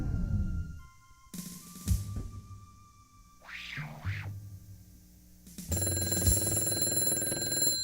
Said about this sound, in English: Let's see if this phone call will stick on the line.